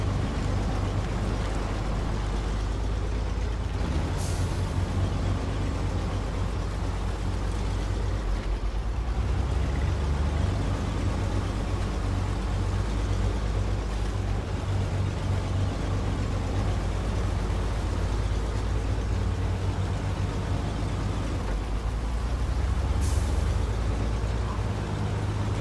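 A truck in Snowrunner crawls along in low gear, a steady loud low engine drone running unbroken for the whole stretch, with a couple of brief hissing bursts like air brakes releasing.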